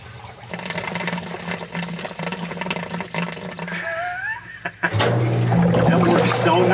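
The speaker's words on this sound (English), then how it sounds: "it drains nice and quiet." Whirlpool washing machine draining water, a steady rushing flow that gets louder and fuller near the end, close up, with a person talking faintly over it.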